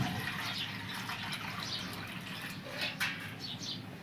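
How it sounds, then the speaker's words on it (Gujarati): Water pours steadily into a container, a continuous soft splashing rush heard close by at low volume. "એક તપેલી પાણી આમાં"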